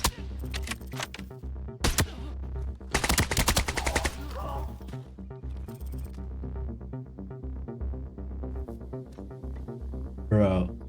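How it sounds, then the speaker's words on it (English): Bursts of gunfire from a Cyberpunk-style extraction shooter video game, single shots and rapid automatic volleys going off nearby and loud, coming in repeated clusters over a steady game soundtrack. "When I heard shots nearby"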